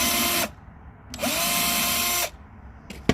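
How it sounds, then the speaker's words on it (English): A power drill bores holes for hinges in a self-built van, two loud whirring bursts with a pause between and a brief final rev, nobody speaking. "it is easier to drill holes first"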